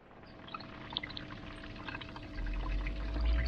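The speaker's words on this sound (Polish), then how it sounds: "Leje się woda." Water pours steadily over the body of an Audi A4 B5 while checking for a leak, a continuous close splashing trickle that swells louder toward the end.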